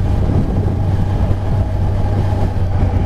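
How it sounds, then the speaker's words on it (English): A Kawasaki Ninja 1000 engine running at around 3000 rpm with a loud, steady air-intake roar, close and continuous, with no breaks or voices. "When I rise the acceleration, man, it takes that intake air and it makes hell lot of noise"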